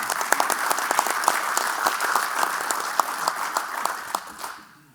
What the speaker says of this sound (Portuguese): E com estas palmas